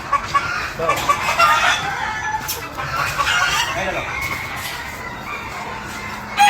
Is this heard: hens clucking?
yes